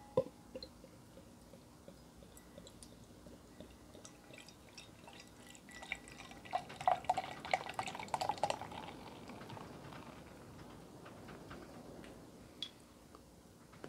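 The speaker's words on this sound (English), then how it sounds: "The glass, let's give it a pour." Breakfast wheat beer pours into a glass with a steady soft fizzing and trickling that swells into a louder gurgling stretch midway, then settles back to quiet foaming hiss.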